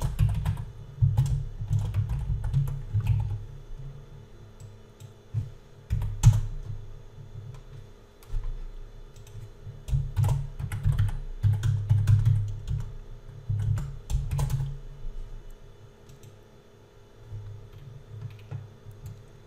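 Steady typing on a computer keyboard, close and continuous, with quick irregular key clicks over a low room hum for a long stretch.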